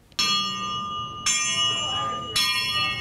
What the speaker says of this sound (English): when dinner is ready, they ring the bell and everyone comes out to have dinner together